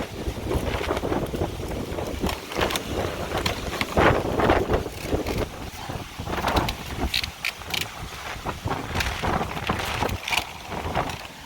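Strong wind of about 70 miles an hour gusting after Hurricane Delta, a loud steady roar buffeting the microphone with rising and falling gusts throughout, no talking.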